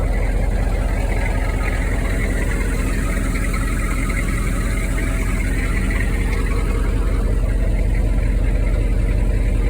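A Humvee diesel engine idles just after starting, a steady, close, low rumble that holds unchanged throughout with no voices.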